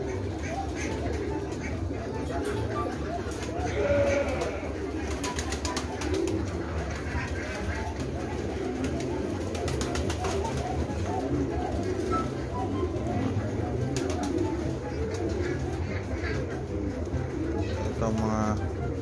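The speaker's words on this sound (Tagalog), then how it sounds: "Ito mga assorted, mga puting kalapati." Several white doves on a farm coo softly and repeatedly under steady background noise, with a few brief calls from other birds mixed in throughout.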